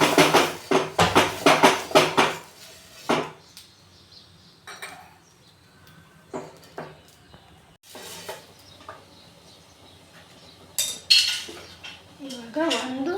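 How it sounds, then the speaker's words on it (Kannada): Oil is spread over a dosa griddle for Davangere benne dosa, bringing bursts of metallic clinks and scrapes, busiest at the start and again later, with quieter gaps and some voices between. "ಇವಾಗ ದೋಸೆ ಹಂಚಿಗೆ ಎಣ್ಣೆನ ಸವರ್ಕೊಳ್ಳೋಣ"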